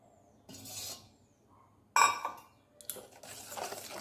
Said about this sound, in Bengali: এটার মধ্যে পুরো তেলটা দিয়ে দেবে।